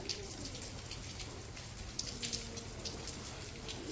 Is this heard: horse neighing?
no